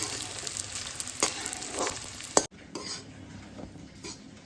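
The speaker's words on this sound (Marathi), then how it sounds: "बारीक गॅसवरती डिंक चांगला तळून घ्यायचा आहे" Pieces of edible gum (dink) fry in ghee on a low flame, giving a bright, continuous sizzle with a spoon stirring and clinking. The sound drops sharply partway through, and a quieter sizzle continues after.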